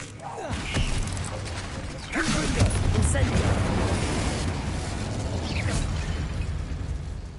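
Spell blasts such as Confringo and Incendio in Hogwarts Legacy, fired in a tomb: a series of bursting pops and booms that land one after another over a steady low rumble, mixed in with game noise and talk.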